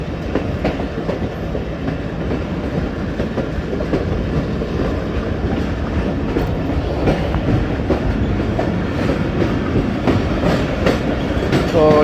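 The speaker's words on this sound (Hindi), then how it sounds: "हमारी ट्रेन स्लो हो गई और गाड़ियाँ बड़ी स्पीड में जा रही हैं।" A passenger train on a Pakistani rail line slows near Chenab West Bank station, its wheels clattering steadily over rail joints with a continuous loud rolling rumble and no talk.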